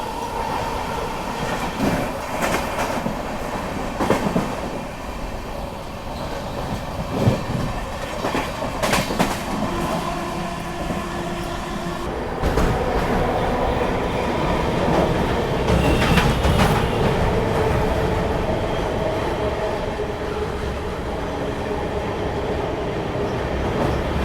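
A Patna–Delhi AC special passenger train crossing the Naini Bridge toward Prayagraj Junction makes a continuous rumbling roll on the rails, with rhythmic clickety-clack wheel beats and occasional sharp clanks, heard close from inside with no talk.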